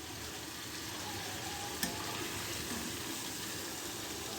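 Fish, being fried for a mustard boal, frying in oil with a soft continuous sizzle, fairly quiet, with one brief sharp tap partway through and no talking.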